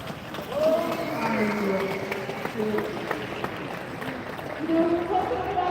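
Crowd gathered outside a Tusla building, a steady murmur of many voices with scattered shouts, fairly near, while a nearby voice talks over it.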